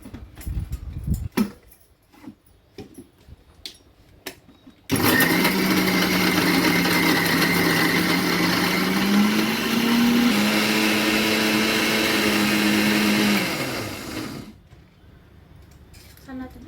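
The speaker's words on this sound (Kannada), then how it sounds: "ಈ ಸಲ ಮಿಕ್ಸರ್ಗೆ ಹಾಕಿ ತೋರ್ಸಕತ್ತೀವಿ ನಾವು. ಹಾಕಿ ಚಂದ ತಿರುಗಿಸಿ." An electric mixer grinder blending mint chutney starts abruptly and whirs loudly and steadily for about nine seconds, its pitch rising slightly midway, before cutting off; scattered clatter and voices come before and after.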